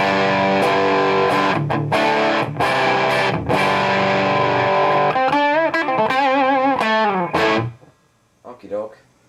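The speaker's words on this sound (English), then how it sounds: "Gain up so you can kind of hear what it sounds like" Electric guitar through a Marshall JVM 410H amp on the clean channel with the gain turned up, loud crunchy strummed chords and riffs with bends and vibrato, then a brief pause and a few quieter notes.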